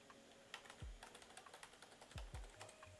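Keys on a computer keyboard tapped at a Windows Server login to enter an administrator password, quiet clicks in an irregular run with a few heavier thuds from the desk.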